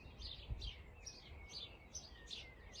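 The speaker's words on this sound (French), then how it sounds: "Mais là, il y a déjà le chant des oiseaux." Birds sing outdoors in a garden, a series of repeated bright chirping phrases roughly every half second, moderately distant over a low background rumble.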